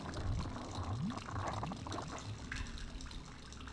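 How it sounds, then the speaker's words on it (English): Running water in the Legacy of Kain Soul Reaver 2 video game, a steady pouring gush with faint splashy detail, low in level and continuous without a break. "It's like having the shower running or something."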